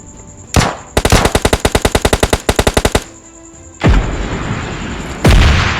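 Gunfire in the mobile game PUBG Mobile Lite: a single shot, then a long rapid automatic burst of evenly spaced loud cracks, followed by two heavier booming shots, all over a faint steady background tone.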